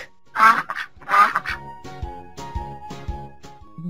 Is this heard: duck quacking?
yes